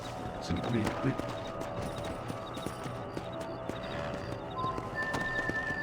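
A horse in the video game Red Dead Redemption gallops with rapid, rhythmic clip-clop hoofbeats and an occasional whinny, close and steady, with a voice talking over it.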